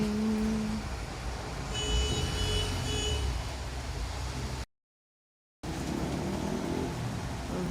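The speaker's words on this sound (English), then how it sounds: "it's raining" Steady rain falls on a street in the Thiseio area of Athens, a broad continuous hiss with distant traffic rumble, holding evenly before a brief gap and resuming.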